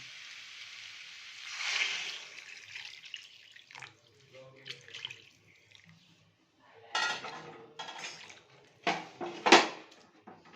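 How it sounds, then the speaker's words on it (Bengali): Hot water is poured from a pan into a pot of spiced potatoes for dhokar dalna, with splashing bursts, metal clanks and scrapes of utensils arriving in separate uneven spells between quiet gaps. "এবারে আমরা পাশে যে গরম জলটা বসিয়েছিলাম সেটা এবার এটার মধ্যে দিয়ে দেবো"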